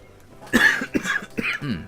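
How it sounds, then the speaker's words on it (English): A short burst of several harsh coughs close by, three or four rough hacks in quick succession, from a lingering COVID cough. "COVID cough. It just won't go away."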